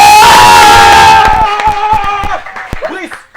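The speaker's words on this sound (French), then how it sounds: "Est-ce qu'on peut applaudir Oui, pour Gomez." Studio audience on a French TV talk show set clapping and cheering loudly at first, the crowd noise thinning out after about a second into scattered claps and shouts.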